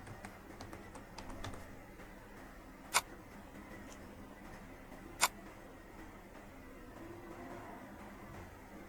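Soft clicks of computer keyboard keys in a quiet room, a few quick taps early then two sharper isolated clicks, faint with no talking.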